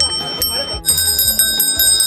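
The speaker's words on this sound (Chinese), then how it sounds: "这小铃铛不错，声够脆的" A small old bell rung at the Panjiayuan flea market stall in Beijing, giving bright, crisp metallic rings with long sustained overtones, struck repeatedly in quick succession close by, with some talk from people nearby.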